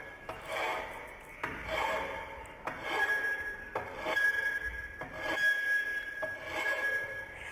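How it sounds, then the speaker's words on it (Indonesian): Hand file rasping across a metal workpiece at a workbench, a steady series of long rough strokes, about six passes close up with brief pauses between them and no talking. "Mengikir adalah salah satu kegiatan meratakan permukaan benda kerja hingga mencapai ukuran kerataan dan kehalusan tertentu dengan menggunakan kikir yang dilakukan dengan tangan."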